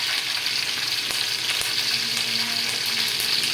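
Mustard seeds, cinnamon, cloves and curry leaves crackle and sizzle loudly in hot oil for pepper chicken, a dense, steady frying hiss with faint stirring clicks and no voices.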